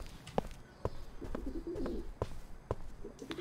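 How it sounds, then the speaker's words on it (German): Pigeons coo in the medieval video game Crowns and Pawns: Kingdom of Deceit, a few soft low warbling calls over a steady ambient bed with occasional sharp clicks. "Also die Tauben sind auch wieder hier."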